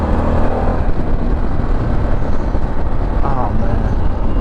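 A Harley-Davidson Pan America motorcycle powers out of a corner, its engine roaring loudly and steadily under heavy wind rush, with a voice briefly audible over it.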